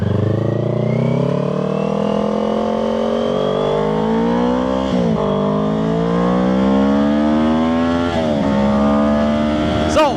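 Kawasaki Ninja 500 motorcycle accelerating hard through the gears, a loud close engine whine climbing in pitch with brief dips at each upshift, steady and continuous under wind.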